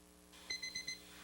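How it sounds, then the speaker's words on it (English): A kitchen cooking timer for pork in a Turbo Cooker Plus countertop cooker beeps four times in quick, evenly spaced bursts, clear and close over a quiet room. "There's the timer on our pork."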